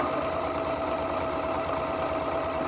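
A sewing machine stitching steadily around the edge of a fabric square, a close, continuous mechanical whirr with fast rhythmic needle chatter.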